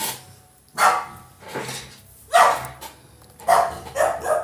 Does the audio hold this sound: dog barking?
yes